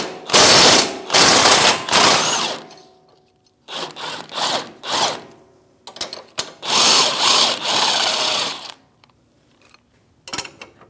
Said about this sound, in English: Now we're going to remove our lower control arm knuckle to control arm bolt